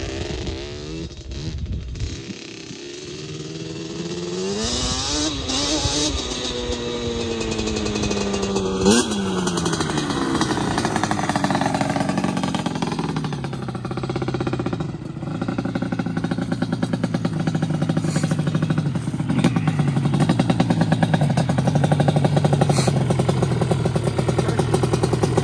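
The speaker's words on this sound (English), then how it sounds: "ATV off-road fury." A Banshee 350 and a KTM 450 ATV ride off-road with their engines revving loudly and continuously, the pitch rising and falling through repeated throttle blips for the whole stretch, with no voices.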